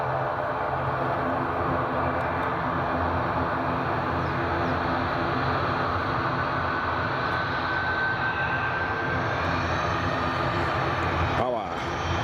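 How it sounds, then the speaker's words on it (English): A jet airliner makes an intersection takeoff at Edinburgh Airport, a loud, steady engine roar that fills the whole stretch and rises in pitch near the end. "Always do love a good intersection takeoff."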